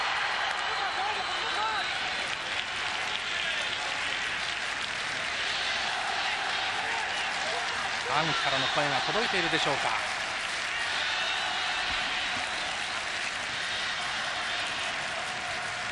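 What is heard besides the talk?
applause from main stand at football stadium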